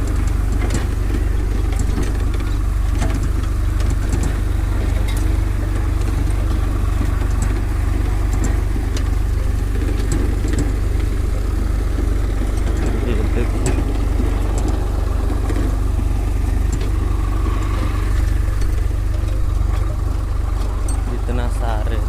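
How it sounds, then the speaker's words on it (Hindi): A Swaraj tractor runs steadily while sowing paddy, its engine a continuous loud drone throughout, with people talking over it. "ये ट्रैक्टर मालिक ये ट्रैक्टर चला रहे हैं।"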